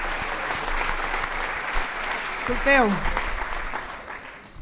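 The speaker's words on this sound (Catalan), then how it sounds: "estem aplaudint la vibrant lectura del Sergi Mateu" An audience applauds a reading by Sergi Mateu at a commemoration of the first independence speech, steady broadband clapping throughout with a voice speaking briefly over it.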